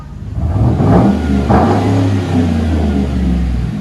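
A Chevy Avalanche 5.3L V8 with dual exhaust and tips revs twice in quick bursts, then drops back to a deep, steady idle rumble, loud and close, with no one speaking.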